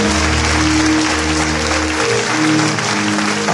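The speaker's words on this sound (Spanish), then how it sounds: "Aplauso para Cristo." A church congregation applauds at a Spanish-language sermon, loud dense clapping filling the room steadily throughout, with a low musical hum underneath.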